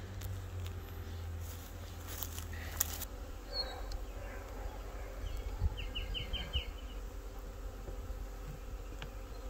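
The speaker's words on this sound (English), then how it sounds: "The bees are in the box." A honey bee swarm buzzes faintly around a hive box outdoors, a steady low drone of many insects with a few brief nearby passes and no talking.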